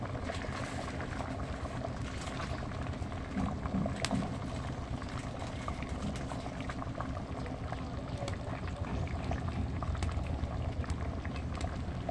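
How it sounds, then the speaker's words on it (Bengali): Koi fish curry bubbling in a pan, with a continuous close boiling and gurgling sound and frequent small pops, steady and fairly loud throughout with no speech. "এবার একটু অল্প একটু ফুটাবো ফুটিয়ে ঢেলে নেবো তরকারিটা"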